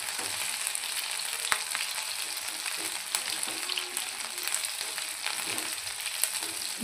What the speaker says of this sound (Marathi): आपण याला शॉर्ट फ्राय करून घेणार आहोत।